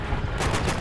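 A single sharp, heavy shot from a PTRS anti-tank rifle in the video game Call of Duty: World at War, a brief loud boom with a short rumbling tail.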